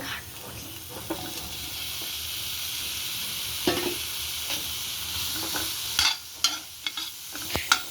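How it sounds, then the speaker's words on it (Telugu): Paneer pieces dry roasting in a little ghee give a steady close sizzle and hiss in the pan, with occasional sharper scrapes and clinks of stirring toward the end. "పన్నీర్ పీసెస్ని నేను లైట్గా నెయ్యి వేసి డ్రై రోస్ట్ చేస్తాను"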